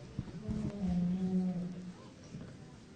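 A dairy cow at a spring cattle show lets out a single drawn-out moo of about a second, fairly faint against quiet hall ambience with a soft knock just before it.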